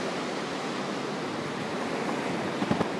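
Sea waves rolling onto the Arabian Sea shore at Kollam under a clouded sky, a steady broadband wash of surf with a few louder breaking surges near the end, no voices.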